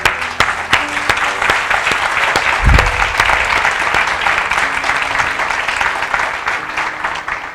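An audience at a talk gives sustained applause, with dense, even clapping from many hands that carries loudly throughout.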